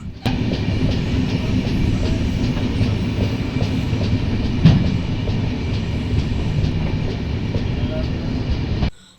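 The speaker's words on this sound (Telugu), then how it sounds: "train number one seven two five four Chhatrapati Sambhaji Nagar Guntur express Veldurthi స్టేషన్కి అయితే వస్తుంది" The Chhatrapati Sambhajinagar–Guntur Express rumbles steadily past at close range arriving at Veldurthi station, with rhythmic clattering wheels and a continuous low roar throughout.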